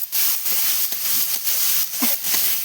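Potatoes tossed in a spice paste in a hot pan: a loud, close hissing sizzle that swells and dips in quick pulses as they are stirred.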